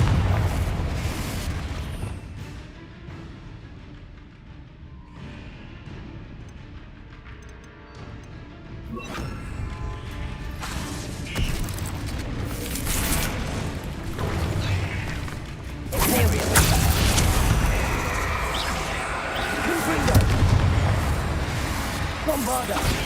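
Confringo and Bombarda spell explosions burst in the Hogwarts Legacy video game, a run of heavy booms and crashing blasts over rumbling game sound, with a voice talking through it.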